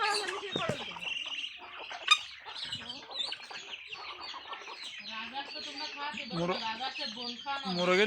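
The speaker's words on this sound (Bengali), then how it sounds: "খক খক করতেছে কেন মুরগি" Hens and chickens clucking while being fed in the morning alongside geese, a busy, fairly close run of clucks and squawks with people talking over them throughout.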